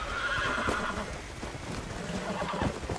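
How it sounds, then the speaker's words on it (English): Pestilence, a horse in the Undead Nightmare video game, neighs and whinnies amid clip-clopping hoof sounds and rustling movement, fairly loud and close with no voices over it. "trying to tame the first horse of the apocalypse, Pestilence"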